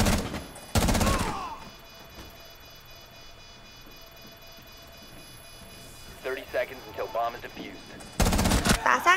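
Gunfire in the tactical shooter Rainbow Six Siege comes in two sharp, loud bursts at the start and end, with quiet game ambience between them and someone talking in the middle.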